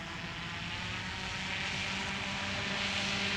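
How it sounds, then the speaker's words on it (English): A small propeller airplane takes off on a first solo flight, its engine a loud, steady droning buzz that swells gradually as it powers along, with no voices. "And here's Wenda getting ready to do her solo first takeoff on September 20th, 2023."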